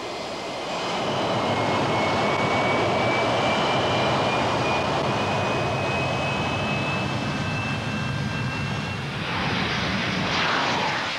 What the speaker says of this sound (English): Transition into level flight was achieved, and the X13 flew like a conventional jet aircraft.